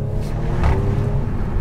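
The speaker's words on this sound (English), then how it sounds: "Okay, the upshift crackle" A 2018 Audi RS5 with a Remus exhaust crackles on an upshift, a loud, steady engine rumble with a short burst of pops near the middle.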